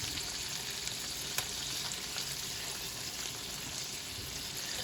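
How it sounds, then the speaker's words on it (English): Steady frying sizzle of chicken sautéing in a pan, a continuous hiss with occasional small crackles and pops, close by and fairly quiet, no talking. "we're just sauteing the chicken"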